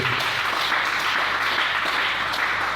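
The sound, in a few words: congregation applauding the Lord in church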